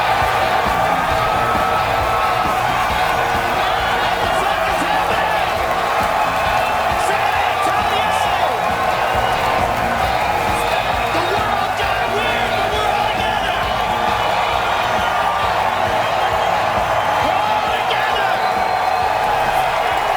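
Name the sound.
large crowd cheering at Joe Rogan comedy special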